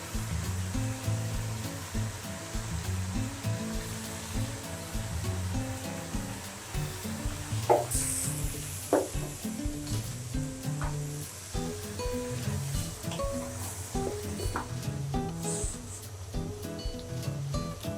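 Beef pieces frying in a pan for beef bhuna, a steady broad sizzle that runs unbroken throughout, with occasional utensil clinks and scrapes near the middle and end and some background music.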